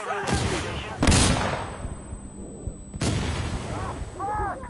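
Video-game gunship fire raining on enemies: three heavy booming blasts spaced a couple of seconds apart, each followed by a long rumbling decay, with voices talking between the impacts.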